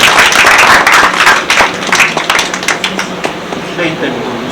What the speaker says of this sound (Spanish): Recibimos un aplauso